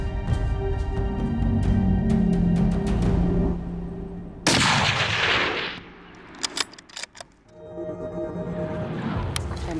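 A single hunting rifle shot fired from a rock rest outdoors, a sharp loud blast near the middle followed by a fading rumble and a few faint clicks.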